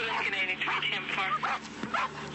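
A police dog on a suspect arrest, yelping and barking in short excited bursts close by, mixed with a handler's voice and radio chatter.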